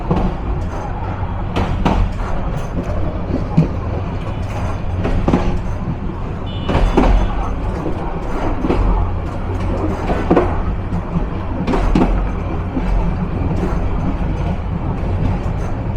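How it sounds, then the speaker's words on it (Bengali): The Egarosindhu train enters Dhaka station with a steady, heavy rumble of rolling wagons and repeated wheel clacks, and a few louder bursts rise over the continuous noise. "এগারো সিন্ধু প্রবেশ করছে ঢাকা স্টেশনে"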